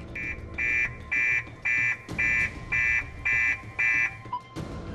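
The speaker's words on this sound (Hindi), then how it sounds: "चोरी के दौरान ही कार में लगा एंटी थेफ्ट अलार्म बज जाता है।" A car's anti-theft alarm blares in loud, evenly spaced electronic beeps, about eight pulses in a row, before cutting off abruptly.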